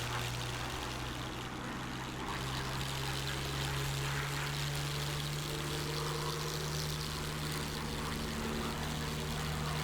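A P-51D Mustang's piston engine drones steadily in a dive in DCS, a loud continuous propeller roar with a strong low hum and airy rush, no voices.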